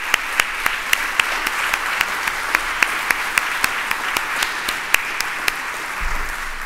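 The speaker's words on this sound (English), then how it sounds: "So let's give a round of applause to everyone who made that possible." Audience applause at a library kickoff event in Seattle, steady dense clapping with sharp individual claps standing out, sustained at moderate loudness throughout.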